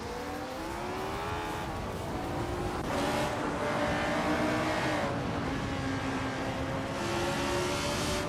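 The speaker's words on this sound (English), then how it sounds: "H2 Hovea is driving a Peugeot 406 from 1996." A 1996 Peugeot 406 race car engine in a racing video game drones at high revs, its pitch rising and falling through gear changes, with other cars' engines layered close in a steady roar.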